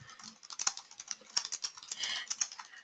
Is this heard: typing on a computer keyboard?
yes